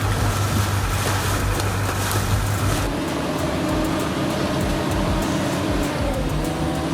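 Heavy excavator engine roaring while breaking thick ice, a loud continuous low drone with rumbling mechanical churn that shifts to a rougher grinding texture partway through.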